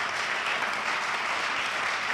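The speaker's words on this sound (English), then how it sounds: "one last round of applause" Crowd at a candidate forum applauding the candidates, a thick, continuous wash of many clapping hands, steady and loud from start to finish.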